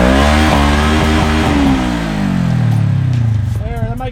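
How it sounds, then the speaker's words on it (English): Off-road vehicle stuck in mud with its engine revved hard in neutral: a loud, close, rising and falling engine roar with strong revs, easing briefly before climbing again. "put it in neutral and rev bomb it for like..."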